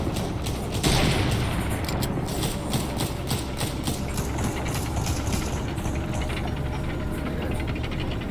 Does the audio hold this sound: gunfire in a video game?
yes